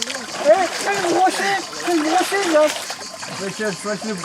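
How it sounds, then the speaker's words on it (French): Children splashing in a swimming pool during a holiday in Montpellier, continuous watery sloshing and splatter mixed with their high, excited voices and chatter throughout, close by and fairly lively. "Voici les enfants dans la piscine."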